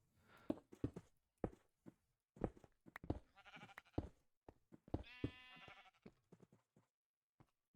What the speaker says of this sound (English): I have a sheep pen on the ground.